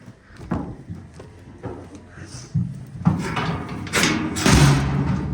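A barn door slams and thuds during frosty morning farm chores, with several loud knocks and rattling bangs building toward the end, mixed with shuffling and faint background noise.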